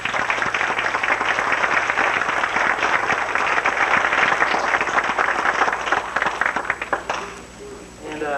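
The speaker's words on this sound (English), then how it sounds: "Let's give them a round of applause" An audience at a 1994 talent show in Minco applauds, a loud, sustained roar of many hands clapping that thins and fades toward the end.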